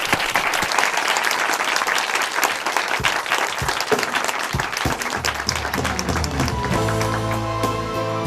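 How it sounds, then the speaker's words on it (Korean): Applause from a church audience fills the space, dense steady clapping throughout, with a musical intro starting underneath near the end. "박수로 청해 보시죠."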